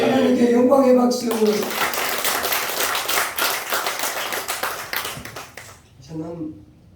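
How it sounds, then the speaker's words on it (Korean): A church congregation claps in praise to God during a Sunday worship service, a dense patter of many hands lasting several seconds under a speaking voice that talks at the start and returns at the end. "하나님께 영광의 박수"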